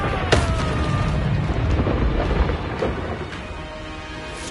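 The Confringo explosive spell going off in the game Hogwarts Legacy, a sharp crack followed by a loud, rumbling blast that slowly fades into softer debris and ambient effects.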